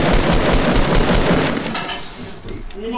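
Rapid automatic gunfire crackles in a Fortnite match, a dense loud burst of shots that gradually thins out and fades over a few seconds.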